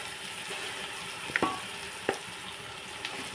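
Raw prawns fry in a pan with a steady, moderate sizzle, broken by a few sharp clinks and scrapes from stirring, with no voices.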